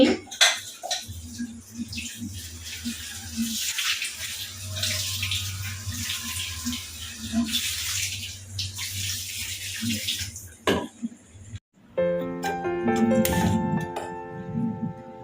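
Chopped food being washed under a running kitchen tap, with water gushing and splashing steadily for about ten seconds before it cuts off. A brief clatter and other kitchen sounds follow.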